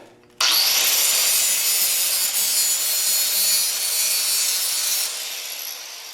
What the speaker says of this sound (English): So let me grind that off a little bit.